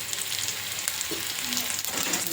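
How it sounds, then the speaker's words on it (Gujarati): Vagharelo bajra rotlo, crumbled millet flatbread tempered in a pan, fries with a steady close sizzle while being stirred and roasted golden, with a few soft scraping touches and no talking. "નાખી અને થોડું હલાવીને આપણે થોડી ગોલ્ડન શેકવાની છે"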